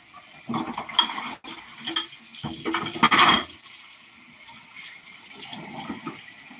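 Hot water runs from a kitchen tap into a sink during dishwashing, a soft splashing stream that swells and fades in short bursts with a brief louder gush near the middle, close by and alone.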